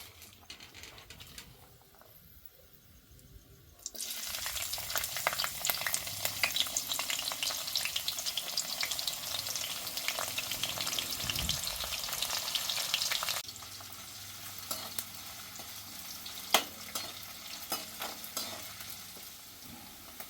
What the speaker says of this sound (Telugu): ముందుగా తరిగి పెట్టుకున్న ఎర్రగడ్డ ముక్కలు వేస్తున్నా